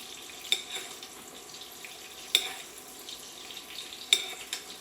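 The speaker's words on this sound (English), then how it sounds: "we're just going to baste this up until the other side gets nice and golden brown" A cauliflower steak sizzles softly in butter in a pan, a steady low crackle broken by three sharp spoon clinks against the pan as it is basted.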